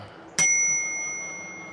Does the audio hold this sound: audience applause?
no